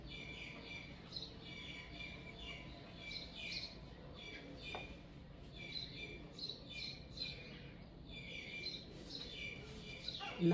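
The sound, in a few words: birds singing in the morning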